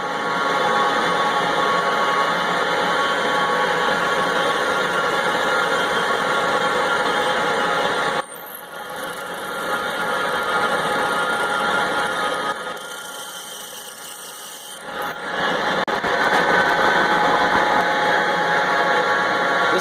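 A Moore No. 3 jig borer drills with power down feed engaged, a steady, loud mechanical whine and hum, briefly dropping in level partway through before resuming its constant drone.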